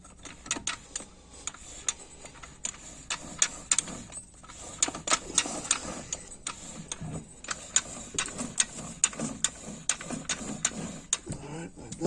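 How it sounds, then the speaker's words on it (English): Metal gear parts in an A604/41TE transmission rebuild click and tick sharply as the front gear assembly is seated into the case, a steady run of close, light metallic taps with soft clunks between them. "we're gonna install this front gear assembly inside next"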